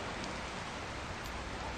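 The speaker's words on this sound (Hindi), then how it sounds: "बारिश गिर रही है" Steady rain falling outdoors, a constant even hiss of drops with no breaks, fairly faint and heard alone.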